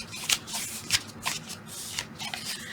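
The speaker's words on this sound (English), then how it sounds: "taking your bone folder or scoring tool, going over those score lines and just kind of showing your paper what it's about to do" A bone folder or scoring tool run along score lines to crease paper for a cover, giving a series of short, dry scraping strokes at a steady rhythm, close and fairly quiet.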